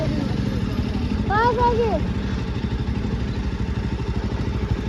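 A motorcycle engine drones nearby with a rapid, even pulsing throb while riding, as a voice speaks briefly over it.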